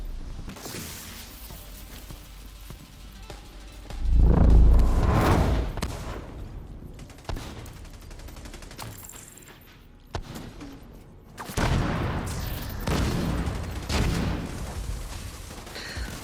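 Gunfire from a squad shooting down enemies in a video game, heavy bursts and booming volleys rising and falling over a continuous loud battle bed, with a few sharper isolated shots between the louder stretches.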